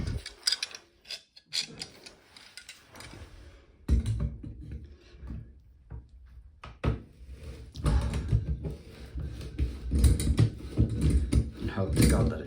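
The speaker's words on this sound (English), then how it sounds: "Undo this big metal nut with the grips." Metal grips work a big metal nut loose on a plumbing job, making close clanks, scrapes and ratcheting rubs in uneven bursts that grow busier toward the end, with no talking.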